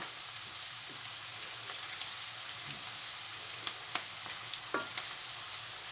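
Onions fry in a pan for nsaka madesu, giving a steady soft sizzle with faint crackles and a few sharper pops, close by and without speech.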